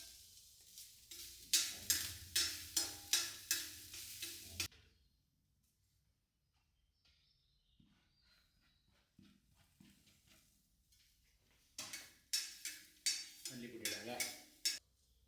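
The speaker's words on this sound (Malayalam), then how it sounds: "നമ്മൾ തേങ്ങ ചിരകിയത്, പിന്നെ ചെറിയ ഉള്ളി, കറിവേപ്പില. അപ്പോൾ ഇത് നമുക്ക് വറുത്തെടുക്കാം." Grated coconut, shallots and curry leaves are roasted in a pan while being stirred. A spatula scrapes in quick rhythmic strokes for a few seconds, goes quiet for a long pause, then resumes in another rhythmic burst.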